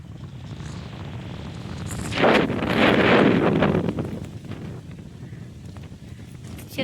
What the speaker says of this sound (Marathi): पाव, वारं कसलं सुटले, लय भयानक वारं सुटले आज.